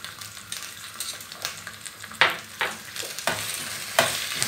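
Tomato paste fries with bone-in lamb neck, garlic and onion in a clay pot, a soft sizzle broken by repeated stirring scrapes, quiet and close, with no talking.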